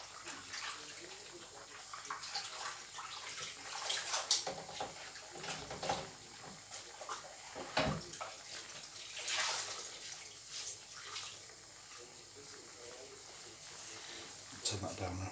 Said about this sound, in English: Just a quick spot of washing up here.